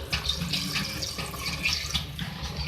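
About one and a half glasses of water poured into a cooking pot of browned beef and arvi for a handi, a steady, close splashing stream with small fluctuations and no talking.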